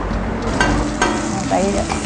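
Ingredients being stir-fried in a very large wok for a Thai dish, with steady sizzling and the scrape and clatter of stirring heard up close and fairly loud throughout.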